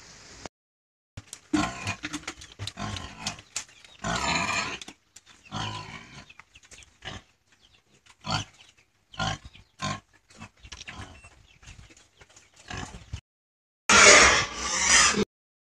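Sows grunt and snort in short bursts on a pig farm, close and irregular, with a louder squeal near the end in an otherwise quiet pen during ultrasound checks.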